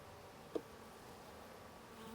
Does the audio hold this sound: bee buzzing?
yes